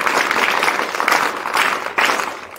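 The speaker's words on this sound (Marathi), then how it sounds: "टाळ्या वाजवा एकदा" Crowd applauding at a village school Independence Day celebration, dense clapping rising and falling in waves, loud and close, with no voices over it.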